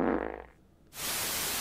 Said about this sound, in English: Why she just fart like that, bro?